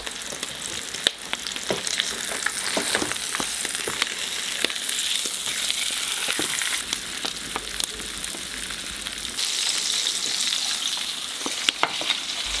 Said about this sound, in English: fry the meat on all sides in vegetable oil until golden and amber brown